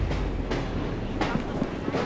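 A steam-era train in the game Assassin's Creed Syndicate, set in Victorian London, rumbling with a steady low roar and rhythmic clacks of wheels over rail joints, loud and close.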